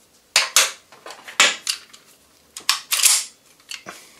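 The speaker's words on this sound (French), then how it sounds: "on commence donc par utiliser cette clé de bushing" Metal clicks and scrapes as a bushing wrench is fitted and turned on a Smith & Wesson 1911 Pro Series pistol, a dozen or so sharp, close taps and brief grinding rasps in an irregular rhythm, with no talk.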